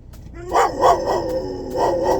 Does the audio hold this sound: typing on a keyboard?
no